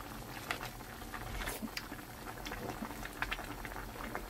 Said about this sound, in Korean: 뚜껑 닫고 뭉근하게 약한 불에다가 끓여줄게요